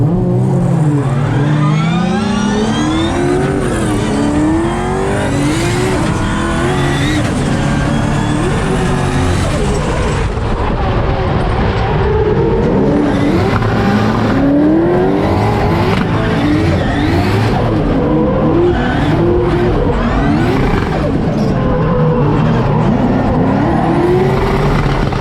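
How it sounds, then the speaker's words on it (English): Drift cars doing donuts at a Battle Royale drifting event in Melbourne, with loud sustained engines revving and wavering tire squeal throughout, close and dense with no talk. "Mike Lake, big entry into understeer, and now he's just doing donuts"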